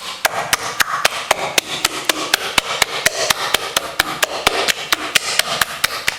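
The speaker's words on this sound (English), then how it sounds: "literally beating it together" Gooey luqaimat dumpling batter is beaten by hand to work out lumps, making a fast, even series of close, sharp slapping beats, about three or four each second, heard alone.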